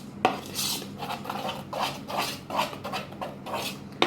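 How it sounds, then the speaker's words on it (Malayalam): A spoon scrapes and clinks rhythmically against a bowl while mixing a chicken marinade of yogurt and dry spices, with about eight close, even strokes and no voice. "ഇനി ഇതെല്ലാം കൂടെ നല്ലപോലെ ഒന്ന് മിക്സ് ചെയ്തിട്ടെടുക്കാം."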